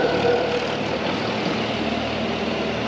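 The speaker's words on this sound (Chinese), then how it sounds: "好，我们这边来了一个拖拉机" A tractor, apparently hauling fodder, runs in Turkey with a steady low engine rumble that holds at a constant level throughout.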